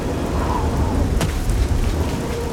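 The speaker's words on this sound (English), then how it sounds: "Right now it's raining like crazy." Heavy rain pours steadily in the video game Oblivion, a dense continuous hiss with a brief sharp crack partway through.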